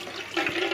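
Cooking water from horse gram and tomatoes pours through a strainer in a short, close rush of splashing liquid.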